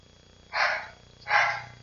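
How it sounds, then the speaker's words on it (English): A dog barks indoors, two sharp, loud barks well apart, heard alone against a quiet room. "He's barking upstairs"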